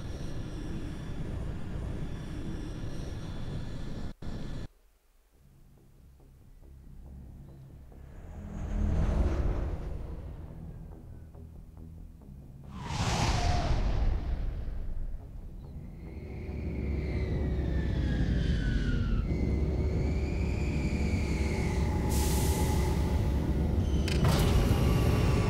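A spaceship sets down on the planet Feros in the video game Mass Effect, with engine roars swelling and receding in several waves, whooshing surges and a rising whine before a steady loud drone settles in.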